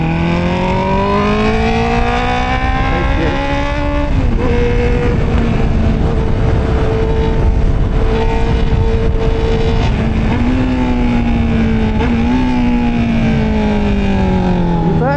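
A Honda CB650R E-Clutch motorcycle fitted with an upgraded air filter revs loudly and continuously up close, its engine pitch climbing, holding and dropping over and over without a break.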